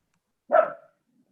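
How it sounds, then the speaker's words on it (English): One dog gives a single short, sharp bark, fairly close and loud against otherwise near silence, heard on a Zoom call. "There's some dogs that want to get in on the talk."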